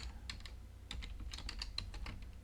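Rapid keystrokes on a computer keyboard as a command is typed into a console, a quick irregular run of close, crisp clicks with brief pauses, no voices.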